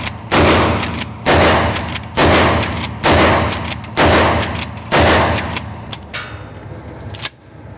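Mossberg Shockwave pump shotgun firing six loud, evenly spaced blasts about a second apart, each followed by a short ringing decay, then quieter clicks and handling noise at the end.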